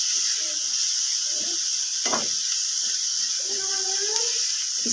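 Chopped tomatoes, green chillies and vegetables frying in hot oil for a potato, egg and cheese paratha filling, giving a steady, even sizzling hiss throughout while a voice talks over it.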